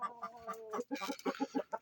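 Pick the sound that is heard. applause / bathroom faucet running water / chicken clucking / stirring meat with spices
chicken clucking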